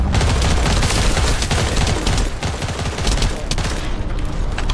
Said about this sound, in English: there were a lot of explosions.